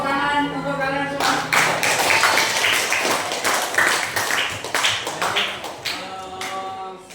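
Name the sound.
clapping for the students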